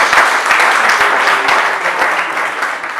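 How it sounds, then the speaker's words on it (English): Sustained round of applause from an audience at a marshals' oath ceremony, dense steady clapping throughout, fairly loud and close, with no voices over it. "Please, a round of applause."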